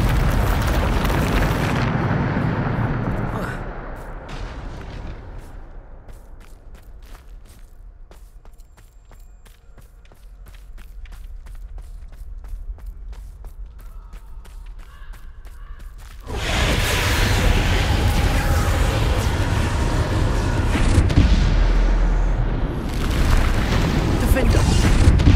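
Bombarda explosion spells go off in the Hogwarts Legacy game, booming blasts and rumbling eruptions that fill the scene loudly, with a quieter gap between bursts and combat noise throughout.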